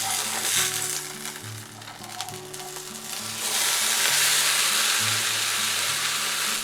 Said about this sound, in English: Also brown this side for 5 minutes.